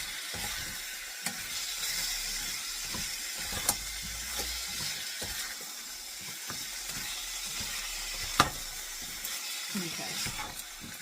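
Meat and vegetables softening in a soup pot, a quiet steady sizzle broken by the knocks and scrapes of a spoon stirring, close by, with a person talking at times.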